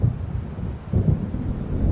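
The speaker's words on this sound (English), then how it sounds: "It seems there's a storm coming." Rolling thunder from an approaching storm in the video game Alan Wake Remastered, a deep continuous rumble that swells partway through over a wash of rain and wind.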